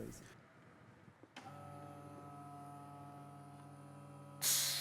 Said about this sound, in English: Now let's switch on the pump and I will show you how it works.